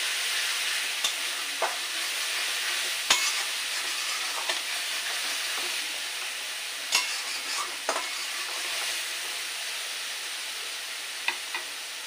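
Spice paste sautés in oil in a pan for a bottle gourd stalk curry with fish and potato, a steady close sizzle with a few sharp pops and scraping stirs, no voices.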